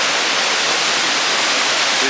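Steady, loud rushing of water pouring down in an aquarium's waterfall tank, a continuous broadband hiss with no breaks, heard up close and alone.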